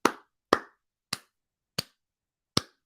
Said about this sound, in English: Get a slow clap for that.